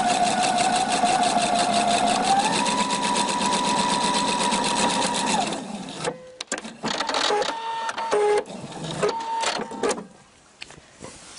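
A Husqvarna Viking sewing machine stitches a piping edge in a steady fast whir for about five seconds, then stops and gives a few short clicks and brief motor bursts.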